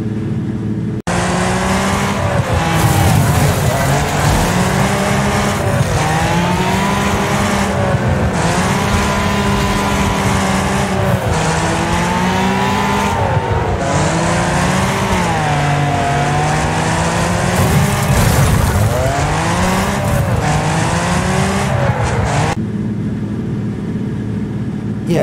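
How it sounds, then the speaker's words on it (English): Cars racing in the video game Wreckfest, loud revving engines rising and falling in pitch as they accelerate and shift gears, several engines overlapping continuously with occasional harsher bursts. "it's a car racing, well, it's more like a car crashing game"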